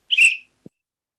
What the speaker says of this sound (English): I got my whistle ready.